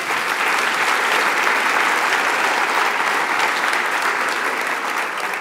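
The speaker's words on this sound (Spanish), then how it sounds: "¿Le das un aplauso matutino a Dios?" Church congregation applauding during a Spanish-language sermon, a steady, dense wash of many hands clapping that holds at an even, loud level for several seconds with no talk over it.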